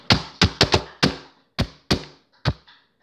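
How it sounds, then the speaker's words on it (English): Knocking on a door: eight sharp, close raps in an uneven rhythm, loud and alone with no talk. "You know the knock."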